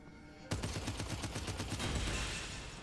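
Rapid gunfire from a weapon in the roguelike game Abyssus kicks in abruptly and rattles on in a dense, loud, evenly paced stream of shots with little pause.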